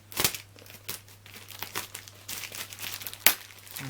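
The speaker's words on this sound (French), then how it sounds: "On découpe que le scotch, bien évidemment." Close crinkling and tearing as packing tape on a parcel is cut, with short scratchy bursts and one sharp rip near the end.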